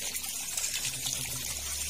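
A hand water pump in a backyard vegetable garden sends water splashing and pouring in a steady hissing gush, fairly close, with no talking.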